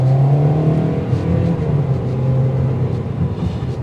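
A 2024 Toyota Corolla LE engine, 169 horsepower, revs steadily under acceleration, its drone holding high RPM throughout with road and cabin noise mixed in.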